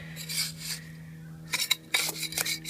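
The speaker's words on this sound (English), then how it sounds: "So this is where you would use your bricklaying trowel, just to smooth out the cement mix." A bricklaying trowel scrapes and smooths a cement mix bed for granite setts on a DIY patio, making a few gritty rasping strokes over a steady low hum.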